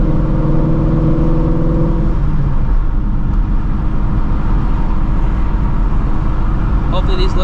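A supercharged Shelby GT350 drives in sport mode, its engine loud and close. It holds a steady tonal drone for about two seconds, then turns into a rougher, broadband roar that continues to the end.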